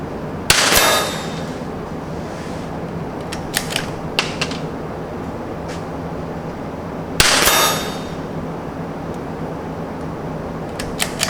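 .22 LR rifles, a CZ and a Tikka, fire two sharp, loud shots several seconds apart outdoors, with faint mechanical clicks in between over steady background noise.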